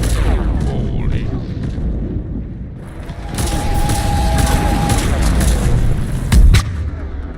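A harvester firing on the player in Mass Effect 3, heavy artillery-like booms and gunfire rolling through a loud battle, with a sharp close blast near the end and voices under the din.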